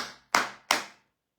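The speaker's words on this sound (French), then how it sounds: "Applaudissez-le." Two sharp, close claps ring out about a third of a second apart, each decaying quickly, with no talk.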